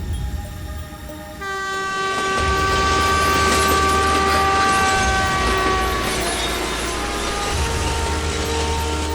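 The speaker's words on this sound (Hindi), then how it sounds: "कावेरी एक्सप्रेस पास हुई।" Kaveri Express passenger train going by, its loud, sustained horn sounding after a brief quieter moment and holding over a heavy, steady rumble of wheels close at hand.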